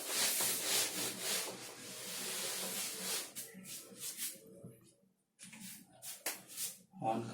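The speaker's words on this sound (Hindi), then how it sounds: "तो देखिए ऊपर का मैं रब कर रहा हूँ" A teacher rubs writing off a board during a physics lecture, a loud hissing wipe at first, then shorter scrubbing strokes broken by pauses, fairly close with no talking.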